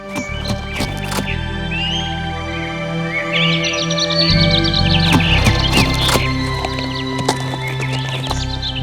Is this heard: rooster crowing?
no